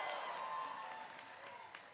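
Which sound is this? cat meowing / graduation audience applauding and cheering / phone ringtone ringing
graduation audience applauding and cheering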